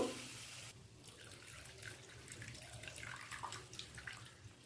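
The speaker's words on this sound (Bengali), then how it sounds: "সর্ষেটা ভালো করে জলে গুলে আমি ওপরে জলটুকুই দেবো আর একটুখানি জল দিয়ে ঠিক করে নেব" Water runs and trickles into a bowl of ground mustard paste being thinned for a curry, a soft, steady pour heard close and quiet with small splashes and no voices.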